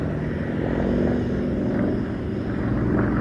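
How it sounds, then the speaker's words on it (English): Aerobatic competition airplane flying at the Duxford airshow, a sustained propeller engine drone that swells and eases slightly as it passes, fairly loud and steady with no talk heard. "what it takes to fly an airplane like this competitively"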